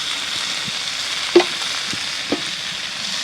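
Fish and sweet potato frying in a pan, a steady soft sizzle running throughout with a couple of brief stirring knocks against the pan.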